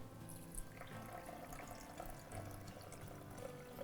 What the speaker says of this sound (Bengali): এর মধ্যে জল দিতে হবে